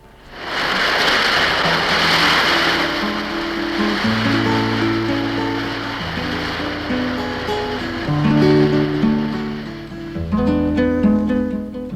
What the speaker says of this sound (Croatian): Neobičan ribarski brod plovi neuobičajenom rutom.